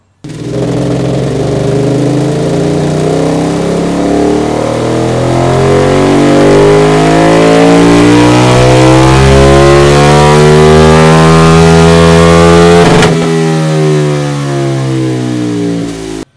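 KTM 1290 motorcycle engine revving hard on a dynamometer, fitted with Spark titanium headers, climbing steadily in pitch for about twelve seconds, then cutting back abruptly and settling, very loud and close with no talk.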